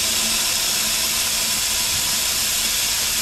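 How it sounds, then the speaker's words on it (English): Steady loud hiss of steam venting from the steam wand of an E61 espresso machine as it purges, a continuous broadband rush with no talk over it. "We're going to turn the steam wand on."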